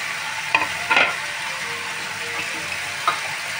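Chicken leg pieces and tomato frying in a pan for chicken kosha: a steady close sizzle, with three louder clatters of stirring spread across it.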